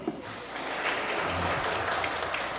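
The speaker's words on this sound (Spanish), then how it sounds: "a cargo del doctor Ramiro de Valdivia Cano, a quien saludamos con un fuerte aplauso" An audience at a legal institute inauguration in a hall breaks into applause to welcome a speaker, a soft, dense wash of clapping that swells and holds steady for a few seconds.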